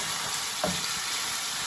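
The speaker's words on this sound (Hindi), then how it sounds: "अब मैं इसमें गार्लिक का पाउडर डाल रही हूँ और इसको फिर थोड़ा सा भूनूंगी" Pieces of chicken frying in a pan with garlic powder added, a steady, close sizzle with a brief stirring scrape partway through and no talking.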